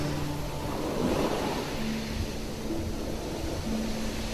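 Ocean waves washing onto a sandy beach, a soft continuous surf wash with gentle swells, heard alone and fairly faint, with a low tonal hum underneath.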